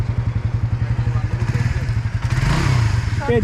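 A motorcycle engine runs close by with a steady, pulsing low throb while someone learns to balance on the bike, a few clattering knocks rising near the end.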